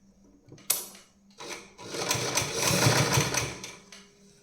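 Sewing machine stitching a bias-strip neckline finish, short bursts of rapid mechanical chatter building into a sustained run of stitching, close and fairly loud with no talking.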